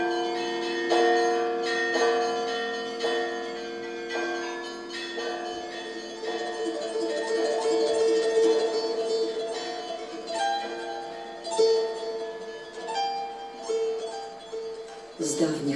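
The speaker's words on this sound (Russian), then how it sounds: "Торжественно, светло, не умолкая, звенят над ней" Church bells ring in layered, overlapping peals, struck repeatedly in a festive rhythm with long resonant tones that sustain and blend throughout.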